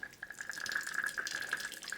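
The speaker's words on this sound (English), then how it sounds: "Okay, so we're just going to attach the Sawyer Squeeze to the top there and open up the cap, and then we will filter some water." Water trickling through a Sawyer Squeeze filter into a bowl, a faint, steady light splashing and dribbling stream close by, with no voices.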